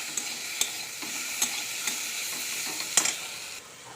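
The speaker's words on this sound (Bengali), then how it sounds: "শুকনো লঙ্কা সম্বার দিয়ে লাউটা দিয়ে দিয়েছি" Bottle gourd fries with a dried chili tempering in a pan, giving a steady bright sizzle broken by several sharp spoon clacks as it is stirred. The sizzle dies down near the end, and nobody speaks.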